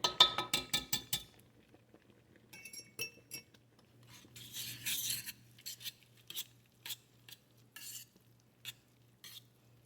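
Cucumber and onion relish mixture stirred in a pot with a utensil, giving a quick run of scraping clinks up front, then a soft churning swish and scattered clinks against the pot, nearby and without talk.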